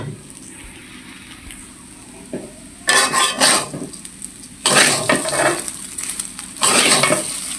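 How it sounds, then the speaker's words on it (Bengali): Rice fries in a pot for pilaf on a new gas stove, with a low background sizzle punctuated by three loud bursts of scraping, rattling stirring against the metal pot. "চালটা ভাজা হয়ে গেছে"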